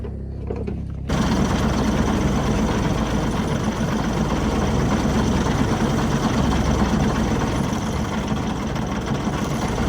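A Cummins diesel truck engine with EGR actuator trouble runs at a steady, loud, rattling idle close by. It cuts in abruptly after a second of quieter sound and holds an even drone to the end.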